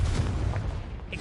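In Hogwarts Legacy on PlayStation 5, a Confringo blasting curse goes off as a deep, rumbling explosion, a loud low-heavy boom that sustains briefly without speech.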